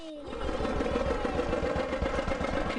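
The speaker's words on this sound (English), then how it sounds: "Take one, four chickens on a ride on a tractor." A tractor engine in a preschool educational game, giving four chickens a ride, chugs in a steady, even low rhythm for a few seconds after a brief opening sound.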